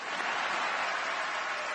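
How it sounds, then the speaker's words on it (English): Audience at the Kennedy Center Honors applauding the host, a dense, continuous roar of clapping from a large theater crowd. "how about a round of applause for our wonderful host, Stephen Colbert."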